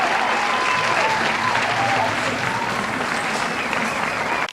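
Steady, dense applause from an award show audience, loud and continuous throughout, with faint cheering voices mixed in before it cuts off at the end.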